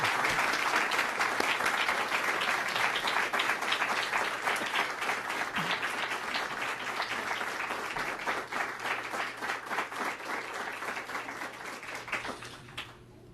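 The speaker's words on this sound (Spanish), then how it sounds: "Recibámosle con un caluroso aplauso" Warm audience applause welcoming a speaker at a Christian gathering, dense steady clapping from a crowd that holds for over ten seconds, then fades near the end.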